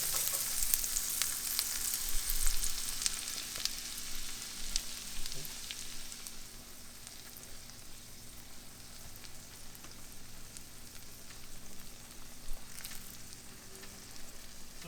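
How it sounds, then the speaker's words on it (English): Onions, tomatoes and chilies sweat in a pot with a steady, close sizzle that is a little louder at first and then settles into an even hiss, with no talking. "we're going to sweat off these onions, tomatoes, and chilies, kind of get them mingling in the pot"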